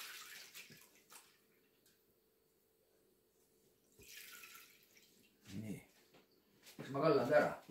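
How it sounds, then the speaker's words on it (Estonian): A kitchen tap runs water over raisins being washed in short gushes with quiet gaps between them, and the splashing grows louder and fuller toward the end. "Siis on vaja rosinat oma pesta."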